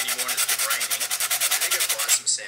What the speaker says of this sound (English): I'm just sanding out.